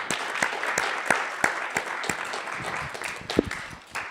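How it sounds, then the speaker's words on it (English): Applause rises from the audience at a library ethics talk, a steady patter of many hands clapping for several seconds at moderate volume, with sharper individual claps standing out and no speech over it. "Please give them a round of applause."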